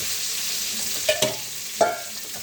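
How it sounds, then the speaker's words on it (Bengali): Eggs fry with chili, salt and turmeric powder in a wok-style kadai, giving a steady sizzle and a few sharp clacks as a spatula stirs and mixes everything together. "এখন কড়াইটা নেড়ে চেড়ে সবগুলো উপকরণ মিশিয়ে নিচ্ছি"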